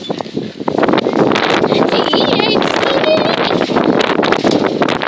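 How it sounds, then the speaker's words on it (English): Steady wind buffets the microphone with a loud, continuous rumble, while a voice talks briefly underneath. "It is so windy out here."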